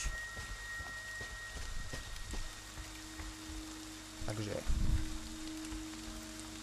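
Faint, steady rain patters in the video game Friday the 13th, a soft background hiss under someone speaking briefly and a few footsteps or thuds.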